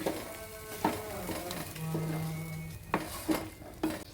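A spoon stirring mango pickle masala in a pan, with a few sharp scrapes and clinks of utensil against metal over a soft sizzle, close and moderately quiet.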